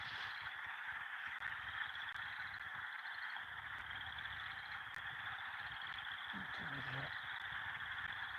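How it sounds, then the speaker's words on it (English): Frogs calling at night in a loud, continuous high chorus, with a brief low voice or call partway through. "The frogs are so loud."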